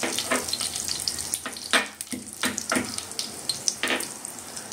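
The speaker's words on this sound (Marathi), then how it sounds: "जरा लसूण गोल्डन ब्राऊन होईपर्यंत हलकं परतायचं" Crushed garlic sautéing in oil in a kadhai with curry leaves and coriander, a crackling sizzle with repeated stirring scrapes in an uneven rhythm, close and fairly loud, no talking.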